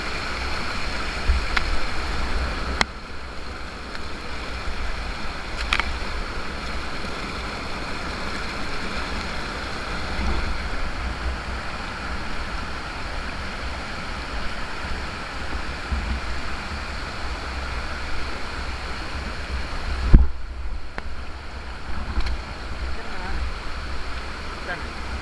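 Floodwater rushes through a pipe, a steady, loud roar of flowing water lasting throughout, with a couple of brief knocks and a short break partway.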